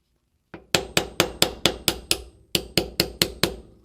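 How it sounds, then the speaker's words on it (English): A small hammer taps a pin punch in about a dozen crisp, evenly spaced metallic strikes, close and clear, with one brief pause midway before the tapping resumes. "I like to use this little hammer on these punches because it doesn't deliver much blow"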